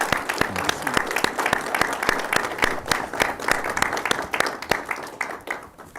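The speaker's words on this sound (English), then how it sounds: "respect the artists with a round of applause" Audience applause for artists at a public conversation event: a steady burst of many hands clapping, sharp individual claps standing out from a crowd, fading slightly toward the end.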